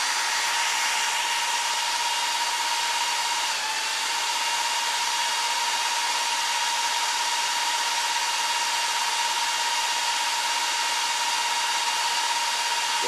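Loud, steady whooshing roar of cooling fans from a Dell PowerEdge 2650 rackmount server during boot-up, with a constant high whine riding on top and a slight dip in pitch partway through, heard alone without talking.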